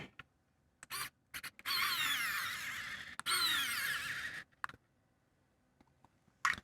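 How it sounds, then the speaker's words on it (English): A weak, low-torque electronic screwdriver drives a screw back into a DVR. Two whirring runs of about one and a half seconds each are framed by small clicks and handling taps, close and quiet. "This is a very weak electronic screwdriver."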